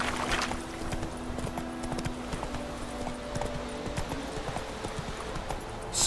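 Horse hooves clip-clop steadily in The Witcher 3, an even rhythmic plodding under a low ambient hum throughout.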